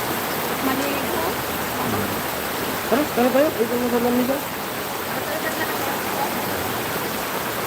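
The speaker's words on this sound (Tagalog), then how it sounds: "Lakas ng ulan." Heavy rain pours in a steady dense hiss that fills the whole clip while a person speaks briefly over it near the middle.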